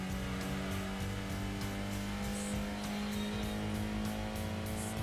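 A Datsun 240Z in Gran Turismo 2 holds a steady, droning engine note at high revs, loud and continuous with a faint pulsing texture and no voices.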